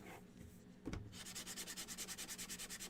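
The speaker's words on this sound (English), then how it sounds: "Let's sand it down." Hand sanding to distress a painted wooden shelf sitter: a faint bump, then a quiet, even back-and-forth scrubbing of about a dozen rhythmic strokes, close by and without talk.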